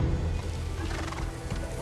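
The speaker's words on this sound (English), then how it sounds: "On the wind. Almost sounds like hooves." Horse sounds carry faintly on the wind in a fantasy drama scene, a distant neigh and soft hoof clatter over a low, continuous rumble.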